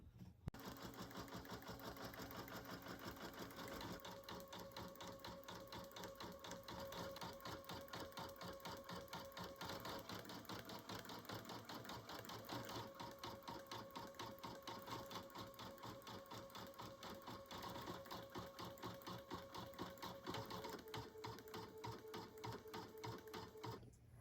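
An embroidery machine stitches a stuffed hat-and-scarf bear pattern in the hoop, a fast steady rhythmic needle chatter with a faint motor whine, running continuously and quietly.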